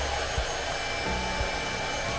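A hair blower runs in a beach-front hotel room in Boracay, a steady whooshing motor hum that fills the whole short clip at close range with no talk over it.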